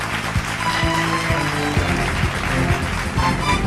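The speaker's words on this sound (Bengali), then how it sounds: "একটা জোরে হাততালি" An audience at an award show ceremony claps steadily, a broad wash of applause with a few sharper individual claps, and no one speaks over it.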